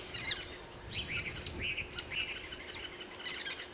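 Birds including a drongo call at dawn in the African bush during a safari drive, a series of short chirps and tweets, moderately near over faint background hiss.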